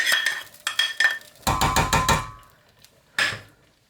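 A metal spoon clinks and scrapes against a pan while tadka is tipped into tarka dhal, giving a series of sharp bright taps, a quick cluster of knocks, then one last clink after a pause, close and with no talk.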